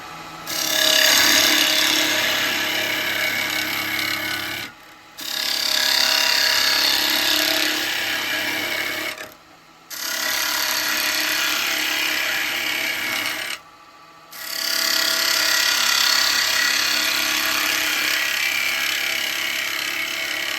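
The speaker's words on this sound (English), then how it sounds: "We'll get that all taken out of the way with a square carbide." Square carbide chisel cutting a wooden bowl spinning on a lathe, a loud, steady rasping scrape that runs in three long passes broken by short pauses, close by with no talking.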